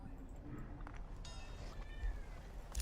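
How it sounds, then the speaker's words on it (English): A cat meows in a couple of short, quiet calls against a faint background, with brief voice activity nearby. "Meow meow meow. Yeah, that is literally exactly what you sound like, Kitty."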